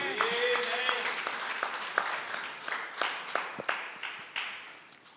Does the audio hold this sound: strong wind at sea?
no